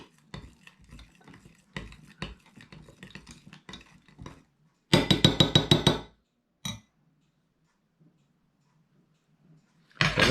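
Cinnamon stick pieces and other ingredients stirred in a glass jar for homemade organic insecticide: a run of light clinks and taps, then a loud burst of rapid rattling, a final clink and a fresh rattle after a quiet pause.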